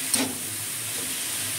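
Lau and sajna greens dropped into a hot pan with chopped ginger and salt: a quick burst of hissing at the moment they land, then a soft, steady steam-like sizzle.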